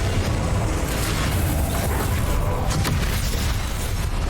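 Confringo blasting spell in the game Hogwarts Legacy, a loud sustained explosive roar with dense rumble that fills the whole stretch without letting up.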